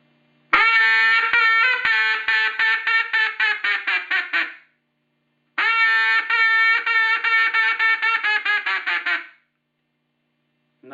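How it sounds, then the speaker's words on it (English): Duck call blown in a pleater sequence, two bursts of rapid quacking notes that speed up toward the end, each run lasting about four seconds with a short pause between, loud and close. "I'm going to demonstrate a pleater call for you."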